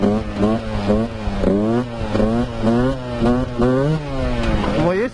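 A Husqvarna 125 motorcycle revs hard during a wheelie attempt, its engine note climbing and dropping in repeated loud surges as the rider works the throttle and shifts, close and continuous.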